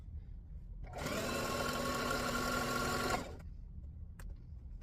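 A sewing machine runs steadily for about two seconds, stitching a jumbo pillowcase, loud and close, then stops; the motor whirs evenly throughout, with quiet room noise before and after.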